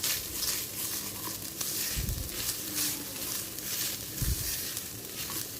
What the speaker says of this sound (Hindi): अब हमें नारियल को लो फ्लेम पर भूनना है